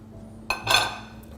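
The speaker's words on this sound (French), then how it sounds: "Je le mélange rapidement" Hot lemon juice is quickly whisked into an egg and sugar mixture in a bowl for millefeuille cream, giving a short burst of metallic clinks and scraping against the bowl.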